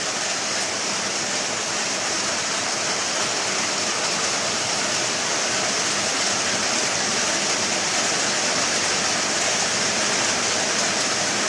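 A constant, loud wash of heavy downpour whipped by strong wind, unbroken and even throughout, with no voices.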